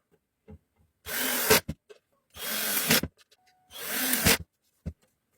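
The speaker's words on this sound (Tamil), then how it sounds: "அப்படியே இந்த டெர்மினலை வச்சு ஸ்க்ரூ பண்ணிக்கலாம்." A terminal being screwed into place with a power screwdriver, three close bursts of whirring driving, each about half a second long, separated by quiet pauses with small clicks and taps.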